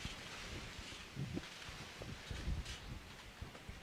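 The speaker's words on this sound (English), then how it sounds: "it is very windy here" Strong wind gusts buffet the microphone at an outdoor cricket ground during a T10 league match in Rwanda, a steady broadband rush that swells in louder bursts, with no voices.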